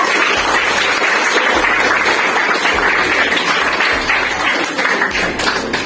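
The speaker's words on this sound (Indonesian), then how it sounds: "Mari kita beri aplaus untuk kelompok wanita." A classroom group applauds for the women's group during a Quran and hadith lesson, a lively burst of many hands clapping together with some rhythmic thumping, close and sustained throughout.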